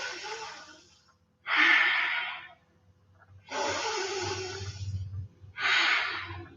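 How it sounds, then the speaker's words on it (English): Deep, slow breaths during a slow yoga flow, with three long airy exhales and inhales spaced by quiet pauses, close and clear. "take 2 more full deep breaths here"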